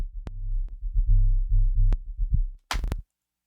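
Automated sub bass from an electronic track, distorted and compressed with a little reverb: deep, throbbing low tones swelling and dipping under a few sharp clicks, ending in a short bright noise burst before silence.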